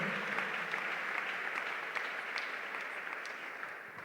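A church congregation claps together in praise of the Lord, a steady wash of applause that stays loud and even before slowly fading a little, with no voices over it.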